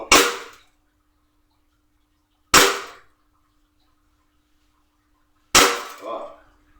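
Three sharp airsoft Glock pistol shots crack out one at a time, spaced a few seconds apart with silence between, each snapping loud and close with a brief ringing tail.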